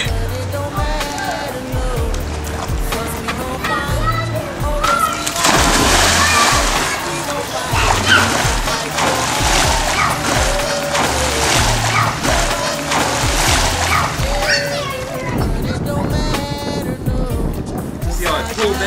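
A swimmer in a pool doing breaststroke churns the water with sustained splashing and sloshing strokes, loud and close, while someone talks over the water sounds.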